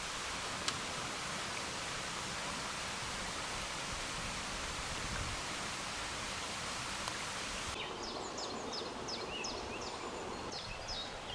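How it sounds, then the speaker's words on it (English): Faint running water trickles behind a metal grid in a stone water passage near the Lower Lydbrook flood defences in the Forest of Dean, a soft continuous hiss with no voices. "we found running water"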